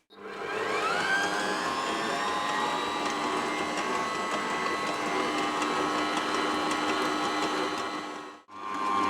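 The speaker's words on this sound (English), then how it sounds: "Hook back into the mix. And we start mixing all over again." A stand mixer with a dough hook kneading hot cross bun dough, a loud steady motor whir that starts abruptly, holds for several seconds, dips briefly near the end and resumes.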